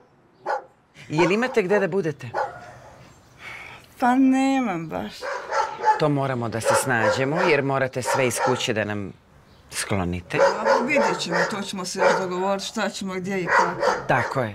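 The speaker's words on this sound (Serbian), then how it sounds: "Mnogo nam laje pas." A house dog barks in short bursts during a conversation, the barks mixed in and partly masked under steady talking from several people indoors at a family home.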